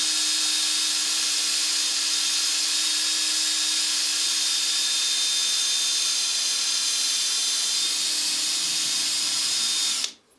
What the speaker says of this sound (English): And then we'll start again with the stirring.